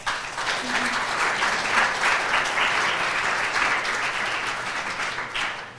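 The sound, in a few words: applause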